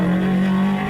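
An NV Auto Subaru race car set up for a power course drives toward the finish line. Its engine gives a loud, steady, close drone with a strong constant tone for the full second.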